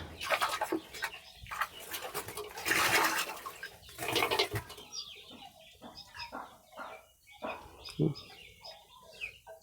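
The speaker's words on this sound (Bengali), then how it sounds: "একটা দুইটা কবুতর নেমে স্নান করা শুরু করে দিয়েছে" Pigeons bathe in a water dish, with bursts of wet splashing and wing flutters close by, loudest early on, mixed with soft bird cooing and a person speaking quietly in the background.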